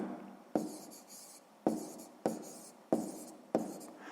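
Handwriting with a pen on paper during a sixth-grade maths exercise: a quiet scratchy series of about six short strokes, each starting with a sharp onset and trailing off, close and alone.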